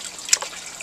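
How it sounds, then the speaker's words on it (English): A small fishing net scoops through the bottom of a 6-inch water tank, giving a brief, close splash and drip over a faint watery background. "I scoop the bottom of these 6-inch water tanks,"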